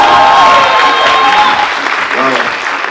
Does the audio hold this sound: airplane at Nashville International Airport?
no